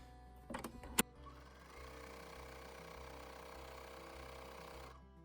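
Serger overlocking a seam on a romper hoodie, with a few sharp clicks at the start and then a steady, quiet motor whir that stops near the end.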